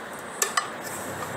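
A loose metal pot handle is gripped and tightened on a workshop floor, giving two quick faint metallic clinks over a soft background hiss, with no talk.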